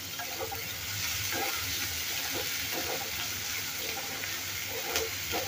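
Two medium onions, finely chopped, fry in a pan with a steady, even hiss of sizzling oil, close and moderately quiet, with faint stirring movement underneath.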